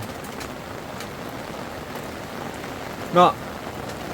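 Steady rain falls and patters on surfaces outdoors on a farm, a constant soft wash with a single brief spoken word near the end.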